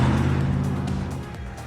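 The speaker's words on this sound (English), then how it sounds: "I hear another car coming." A car passes by on a bridge, its tyre and engine roar loud at first and then fading steadily over a couple of seconds.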